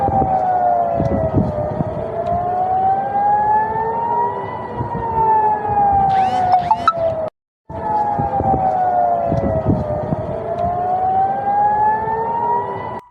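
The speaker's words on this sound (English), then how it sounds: "So sirens going off here in Tel Aviv" Air raid sirens wail in Tel Aviv during a rocket attack, a loud sustained rising and falling tone that cycles slowly, briefly cut out midway, then resumes with no voices.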